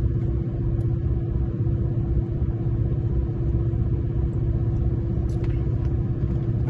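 Inside a truck loaded with its weight all at the back, the engine and road noise make a steady, loud low rumble with a constant hum, and no one speaks.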